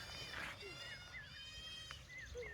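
A billy goat kept for meat bleats from a village farmyard in rural Konkan, its short wavering calls rising over outdoor background noise while a voice talks nearby.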